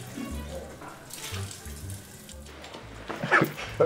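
Tap water runs into a sink while dishes are washed, a steady close splashing stream with clinks of dishware near the end and faint voices in the background.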